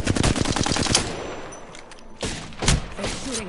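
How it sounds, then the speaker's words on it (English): Rapid bursts of automatic gunfire crackle loudly at the start, fading into scattered shots and echoing reports through the rest of the short stretch. "They're shooting at me."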